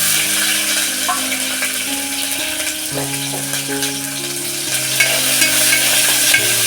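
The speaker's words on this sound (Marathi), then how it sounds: "तेल टाकलेलं आहे हे बघा मी लसूण टाकते याच्यामध्ये लसूण जिरा आणि मोहरी" Garlic, cumin and mustard seeds sizzle in hot oil for a Konkan-style taro leaf dish. A loud, continuous crackle sits close by with faint stirring and scraping throughout, and it swells slightly near the end.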